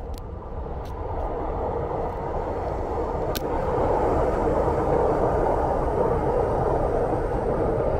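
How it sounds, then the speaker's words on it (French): A steady broadband rumble and roar builds and holds as a Taipei metro train runs past nearby, with a few sharp clicks near the start. "Ah, vous avez le métro qui passe là."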